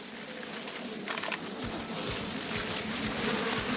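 Giant mantipellae insects in The Outer Worlds, a buzzing, droning swarm-like hum over a steady low background, with soft thumps building as they approach.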